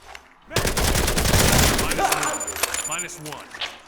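Gunfire in the video game Hired Ops: a loud, dense fusillade of rapid automatic shots that roars up abruptly, then breaks into scattered bursts and fading echoes.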